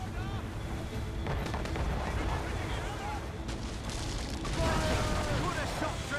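Ship cannon fire in the naval combat of the video game Assassin's Creed: Rogue, with repeated booms over a dense, continuous battle din and voices talking throughout.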